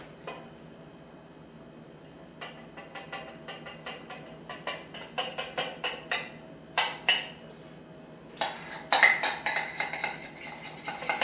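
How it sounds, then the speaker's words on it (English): A spoon clinks and scrapes against a dish while cheese sauce is spooned over a mac and cheese gratin. The clear metallic taps come in bursts and grow busier and louder toward the end, with no speech. "we want to take this rest of this sauce and we're just going to put some more sauce on top"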